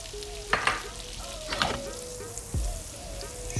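Peeled garlic cloves sizzle in melting butter, cooking alongside beef tenderloin, with a soft steady fizz, a few clanks and scrapes of a utensil against the pan, and a faint low hum.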